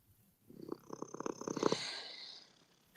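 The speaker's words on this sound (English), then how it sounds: "He's got the loudest purr of any cat I've never known." A house cat purring loudly up close in a series of rhythmic pulsing rumbles that swell and fade, followed by a brief sharp sound at the end.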